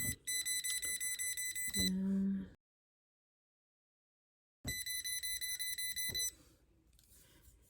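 Voltage tester on a live household outlet circuit, emitting rapid repeated high electronic beeps in two close bursts separated by a silent gap, with brief handling clicks.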